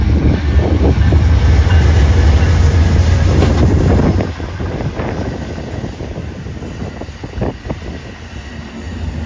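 Amtrak passenger train rolling past on the tracks, a loud, close rumble that holds steady for about four seconds before easing into a quieter, rattling roll with intermittent clanks.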